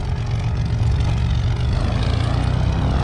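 Steady loud drone of a propeller plane engine on a banner-towing aircraft, a close continuous rumble with pulsing propeller beat that holds constant throughout, with no talking.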